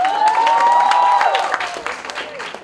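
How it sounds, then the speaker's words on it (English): Loud audience applause and cheering at a college festival in Mumbai, dense clapping from a large crowd with a rising shout or whistle over the first second, then tapering off. "Let's have a round of"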